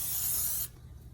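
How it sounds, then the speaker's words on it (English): A short burst of cooking oil sprayed from a can onto a pan holding a beetroot oats pancake, a steady close hiss lasting about half a second before cutting off to quiet. "I'm going to spray a little bit of oil now"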